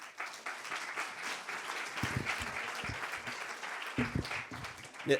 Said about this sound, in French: je propose qu'on applaudisse notre orateur